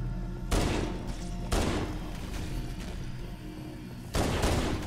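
Gunfire rings out in Halo: Combat Evolved Anniversary during a fight in the Library against Flood and Sentinels: three heavy, booming shots spaced a second or more apart over a rumbling battle backdrop.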